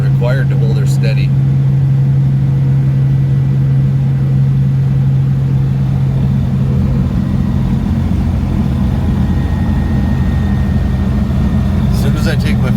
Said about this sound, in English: So I think it's the transmission that's loud.